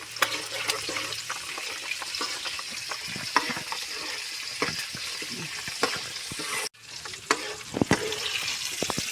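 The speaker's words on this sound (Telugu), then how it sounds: "ఇవన్నీ మంచిగా గోలేదాకా ఇట్లా పొయ్యి మీద ఉంచుకోవాలి" Oil crackles and sizzles in a pan as spices and onions fry for a tomato chutney tempering, with sharp pops and spatters over a steady hiss and an occasional stirring scrape.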